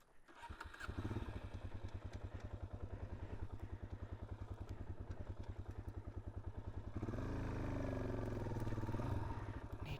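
Suzuki DRZ 400S dirt bike engine climbing uphill off the trail, a close, rapid chugging thump that runs steadily, then revs harder and rises in pitch near the end.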